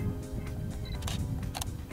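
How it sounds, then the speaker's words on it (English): A Canon EOS 650D (Rebel T4i) in live view fires its shutter release for a still, with quick close mechanical clicks over a steady low hum and no talk. "I can press the shutter release to take a still."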